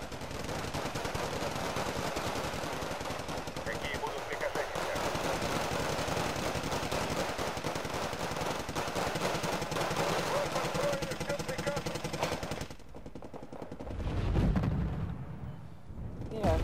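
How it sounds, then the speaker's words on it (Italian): Heavy bombardment in the Wargame Red Dragon video game, loud, dense rattling gunfire and explosions that run continuously before easing into a deeper rumble near the end. "Mira, Nash, guardate il bombardamento che sta facendo"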